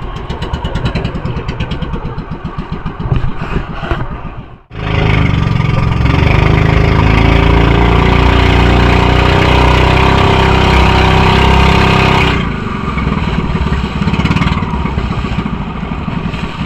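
Several boat motors drone loudly and steadily on a fishing outing at sea after skipjack tuna. The hum briefly drops out, then resumes as a dense, continuous roar.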